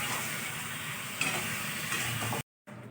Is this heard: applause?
no